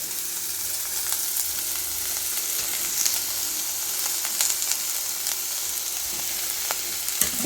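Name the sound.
slit green chillies frying in pan for fish curry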